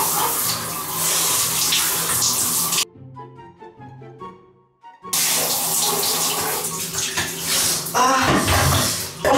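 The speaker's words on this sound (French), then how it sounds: "Donc on va mettre de l'eau bien froide." Cold water runs hard from a shower, a loud, steady rushing spray that stops abruptly for about two seconds, then gushes again at full force.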